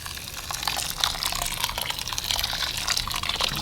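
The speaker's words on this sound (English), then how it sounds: "I'm just simply going to add in some hot boiling water and cover it" Hot boiling water pours steadily over glass noodles in a bowl, a continuous splashing, gurgling stream up close with no talking.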